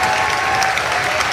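Wrestling crowd at a PWG independent show on its feet applauding, a dense, steady wash of clapping and cheering that fills the whole moment without a break.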